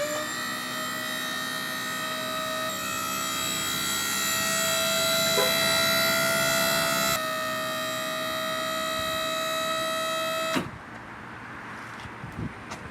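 A hydraulic solar panel array rising on a trailer-mounted professional solar generator, a steady whining motor hum with a shift in tone partway through, ending with a clunk as it stops, followed by quieter ambient noise.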